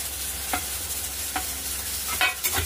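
Spice paste with chopped tomato fries in a pan with a steady low sizzle, broken by a few soft scrapes of stirring, close and moderately quiet.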